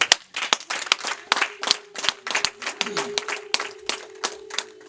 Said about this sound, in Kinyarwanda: mumfashe tubakire tuba amashyi n'impundu